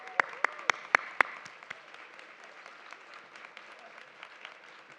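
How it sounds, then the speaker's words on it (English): Audience at the 2023 Johnson Depression Center Luncheon applauds the organizers, starting with a few sharp close claps and settling into softer, scattered clapping in a quiet room. "Please stand so we can give you a round of applause."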